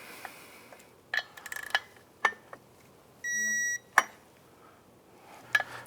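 A digital torque wrench tightening Can-Am Outlander clutch bolts to 15 foot-pounds gives a steady electronic beep of about half a second, among scattered clicks and taps of tool handling.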